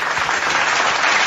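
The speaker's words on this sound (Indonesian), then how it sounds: "Tepuk tangan untuk itu." An audience bursts into loud, dense clapping for about a second at a heated debate. The applause is close and continuous throughout.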